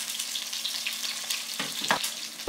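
Chopped green onions fry in a hot pan, giving a continuous close crackling sizzle with a few brief stirring clatters near the end.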